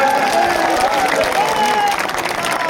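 A crowd at an outdoor political rally applauds in a steady, dense wash, with voices and cheering blended into the clapping.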